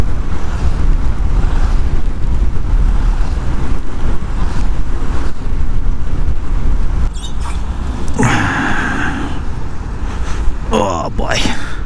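Steady, loud wind roar from riding a Honda CT125 motorcycle on the road, buffeting the microphone continuously, with a brief louder rush of passing traffic near the end.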